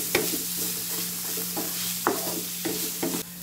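Onions sizzle in a hot pan while a utensil scrapes and stirs them in several quick strokes, sharp scraping bursts over a steady low frying hiss, close and moderately loud.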